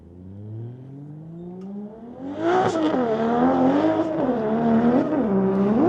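Drift car engine revving and accelerating during a drift team test session, rising pitch sweeping upward then settling into loud, wavering high revs that stay close and continuous.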